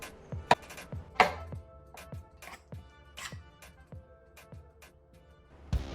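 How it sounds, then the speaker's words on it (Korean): A knife chops a peeled banana into pieces on a cutting board, about nine to ten distinct close taps spread irregularly, a few louder and sharper than the rest, with no talking. "바나나는 껍질을 제거한 후 모양대로 툭툭 잘라서 준비해둡니다"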